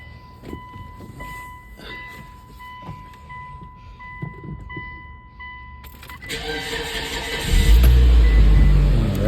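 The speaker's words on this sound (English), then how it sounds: "turn her on, let her run, and make sure it's all good" A 2006 Mitsubishi Eclipse GS engine starts up: keys jangle and door-chime tones sound first, then the starter cranks and the engine catches into a loud, steady idle close by.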